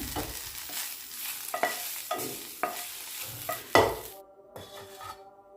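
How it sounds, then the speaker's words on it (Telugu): A spoon scrapes and stirs chennangi leaves frying in a pan, giving a series of sharp clinks and scrapes over a soft sizzle, fading to quiet toward the end. "వేగేంత వరకు కలుపుతూ ఉండాలి"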